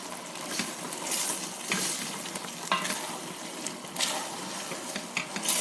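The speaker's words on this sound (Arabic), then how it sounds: "انا هقلب شويه الاول اشوف الصلصه بتاعتي محتاجه مكرونه قد ايه" Spaghetti pasta sauce stirred in a hot pan, a dense, close sizzle with repeated scraping strokes every second or so, running on its own without speech.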